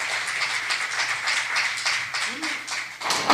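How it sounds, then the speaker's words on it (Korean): Audience applause greeting a shaman performer at a public lecture in Korea; a modest crowd claps in quick, scattered bursts, fairly close, with brief voices mixed in. "큰 박수로 맞으겠습니다"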